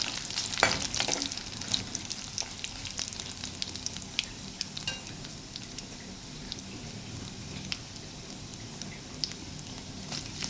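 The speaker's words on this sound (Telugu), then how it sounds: "ఇప్పుడు దీన్ని మంచిగా కలిపేసుకుందాం" Telangana pachi pulusu being stirred in a pot with a spoon, giving soft continuous scraping and sloshing with faint sizzle-like crackle, close up and steady throughout.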